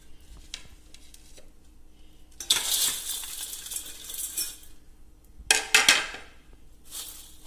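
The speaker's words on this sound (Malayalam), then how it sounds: "ഇനി ഇതെല്ലാം കൂടെ നമുക്ക് മിക്സ് ആക്കാം." Homemade mixture snack ingredients being tossed together in a bowl, two bursts of dry crunchy rattling and clinking separated by quiet pauses, close and fairly soft.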